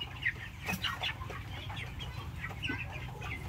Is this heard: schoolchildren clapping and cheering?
no